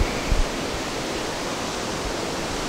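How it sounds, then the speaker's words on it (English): A raging river rushes through the Mexican town of Batopilas, a loud, steady broadband roar of churning water close by, with no break or voices. "behind me you see the raging river that goes through Batopilas"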